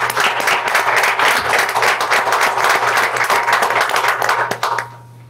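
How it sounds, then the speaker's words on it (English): A school board meeting audience gives a loud, close round of applause, dense clapping sustained for nearly five seconds before stopping abruptly, with a low steady hum beneath. "Let's give them a round of applause."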